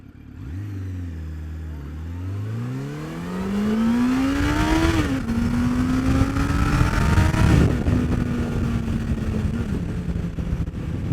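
A 2006 Suzuki GSX600F Katana 600cc motorcycle accelerating hard while ridden, its engine note climbing steeply through the revs, shifting up and pulling again in a loud, close, continuous roar with wind rush.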